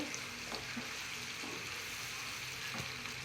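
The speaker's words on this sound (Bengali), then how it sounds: "এখন ভালো করে ভাজবো পেস্টটা" Spice paste with cinnamon, cardamom and bay leaf fries in a pan with a steady, dense sizzle and faint occasional crackles, constant and close throughout.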